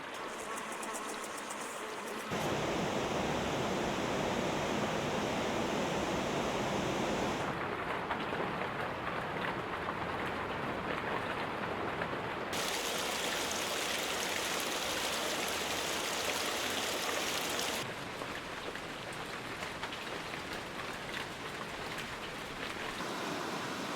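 Flowing stream water and a waterfall rush at Fallingwater, a constant broad wash of water that stays steady and fairly soft, its tone shifting slightly from one moment to the next with no voices.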